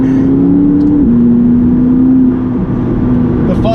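A McLaren 570GT sports car cruises on twisty country roads in Gloucestershire, its engine holding a steady, loud droning hum from inside the cabin, with a small pitch drop as it shifts and eases off.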